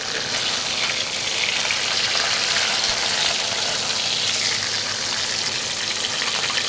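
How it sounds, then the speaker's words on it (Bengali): Fish frying in a pan makes a steady, fairly loud hiss of spattering oil, uniform from start to finish with no talking. "মাছ আমার নাহিয়ান মাছ ভাজছে।"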